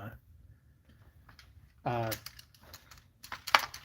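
A rifle bolt action is worked on a toy blaster, giving a few close metallic clicks and a sliding rattle, with a sharp snap near the end and faint speech in the background.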